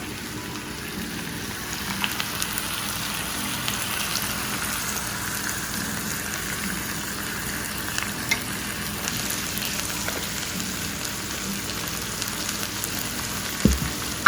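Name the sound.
orange ginger sauce added to pork chops frying in a pan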